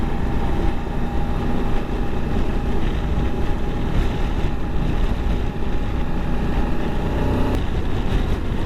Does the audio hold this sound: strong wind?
yes